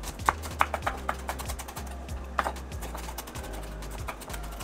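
A knife chopping an onion for salad on a board, quick rhythmic taps at a steady pace with a few sharper knocks, fairly close and quiet, with low hum underneath.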